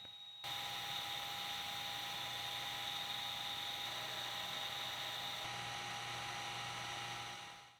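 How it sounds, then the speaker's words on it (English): A metal lathe spins up and holds a part by friction, producing a faint, steady high-pitched motor whine with a low hum underneath that fades out at the end. "Friction is all that's going to keep this part spinning with the lathe,"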